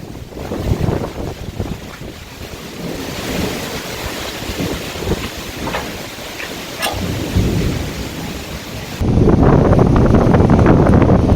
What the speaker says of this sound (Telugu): ఈదురుగాళ్లతో కూడిన వర్షం